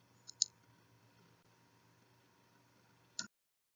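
A computer mouse clicks twice in a quiet room, one crisp double click near the start and another single sharp click near the end, with faint hum in between.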